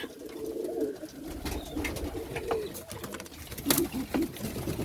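Pigeons coo repeatedly during an evening feeding, with soft overlapping calls close by, interspersed with faint clicks and rustling at a low to moderate level.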